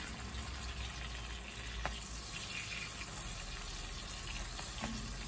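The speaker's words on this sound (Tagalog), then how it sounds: "Ganyan ang pagluluto ng tuyo." Dried fish frying in a pan gives a steady, soft sizzle with faint crackles throughout, heard alone without talk.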